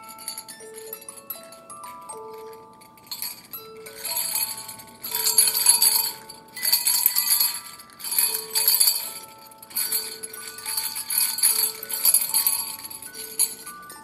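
A small bell rings in clear, bright strikes, first in a sparse run and then in louder repeated bursts of ringing with a tinkling, glassy shimmer, close and alone.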